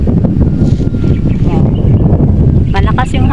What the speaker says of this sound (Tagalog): Malakas yung hangin dito guys.